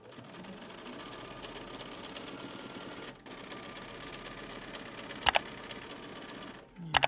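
A sewing machine runs steadily, stitching internal seams through a faux chenille baby quilt, with a brief pause partway and a couple of sharp clicks near the end.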